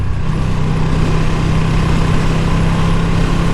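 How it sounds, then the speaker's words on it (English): A 2022 Ducati Streetfighter V2 motorcycle engine runs hard at full throttle, a steady, loud droning roar with no breaks and no talking. "Awesome quick shifter under full throttle."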